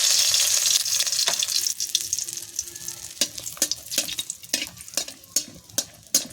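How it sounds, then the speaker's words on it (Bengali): Lentil dumplings (bori) fry in oil, a strong sizzle at first that fades into softer crackling, broken by sharp clinks and scrapes of stirring in the pan. "বড়িটা আমি ভাজা করে তুলে নেব।"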